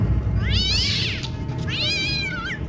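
A cat meows twice, loud and close, each a drawn-out rising and falling cry, over a low background rumble.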